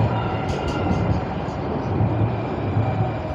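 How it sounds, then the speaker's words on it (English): A Valley Metro light rail train in Phoenix rolls past a station platform with a broad, steady rumble and hiss of wheels on track, close and sustained, with a few faint squeaks up high. "That is the second eastbound train since I've been on this platform"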